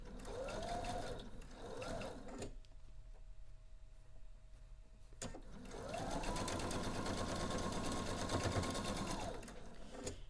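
A sewing machine stitches quilt units in two close, steady bursts, a brief run at the start and a longer whirring run after a quiet pause, with faint background noise between.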